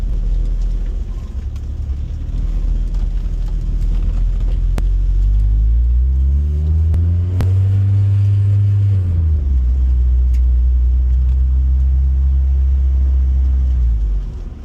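Interior drive in a 2005 Honda S2000 running E85 with a twin-disc clutch: a low steady engine drone and road rumble that rises in pitch as the car accelerates through a gear, then settles back into a cruise.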